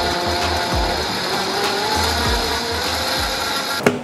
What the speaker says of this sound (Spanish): lo volveremos a poner en nuestra licuadora y le daremos una licuada más